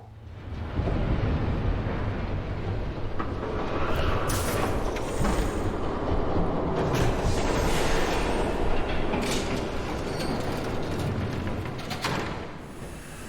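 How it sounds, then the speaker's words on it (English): A train rumbles past in Batman: The Telltale Series, a loud, steady roar with rattling bursts building and swelling across the scene, no voices over it. "There's a train coming."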